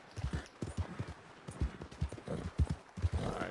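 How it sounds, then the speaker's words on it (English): Horse hooves clip-clopping at a steady walking rhythm in the video game Red Dead Redemption 2 Online, close and distinct with dull thuds, with no speech over them. "Alright, settle down, horse. We're almost there."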